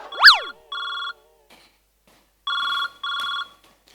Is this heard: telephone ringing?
yes